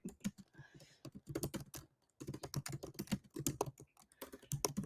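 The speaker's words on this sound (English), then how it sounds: "I can't talk and type at the same time" Rapid clatter of keys on a computer keyboard, dense uneven bursts of close keystrokes with one short pause midway, no voices over it.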